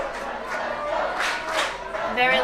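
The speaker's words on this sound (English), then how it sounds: "Very loud, let's go Northwest, let's go chant from the crowds." A crowd at a high school ultimate frisbee state championship final, Northwest against Roosevelt, chants loudly in rhythmic, repeated swells of massed voices.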